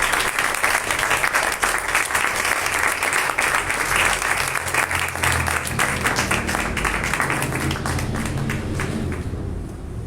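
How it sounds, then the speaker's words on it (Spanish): A church congregation claps in thanksgiving to the Lord: loud, dense, continuous applause for about ten seconds, with a few sharper claps standing out before it thins at the end. "¿Le podría dar un aplauso al Señor de agradecimiento?"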